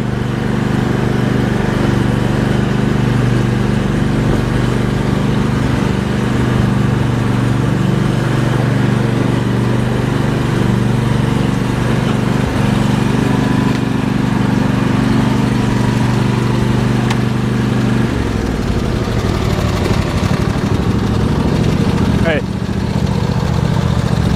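A small MTD lawn tractor engine runs steadily and loudly throughout, with a low droning rumble that shifts pitch near the end, as voices talk faintly in the background.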